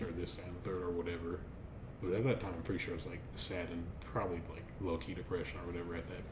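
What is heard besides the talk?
No everyday noise stands out behind the speech.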